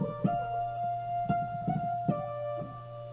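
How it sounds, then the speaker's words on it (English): Sliced lead patch, program 89, on a Phantom X synthesizer: a sustained tone chopped by rhythmic gating, with soft percussive clicks marking the slices over a constant low drone. "I have a sliced lead here, it's program 89 or whatever"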